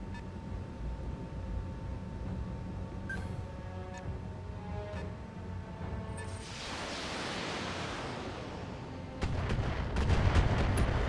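Tanks fire artillery in the BattleTech game, with heavy booming blasts and a rushing roar of explosions building over a rumbling battle backdrop, followed by louder crackling impacts near the end.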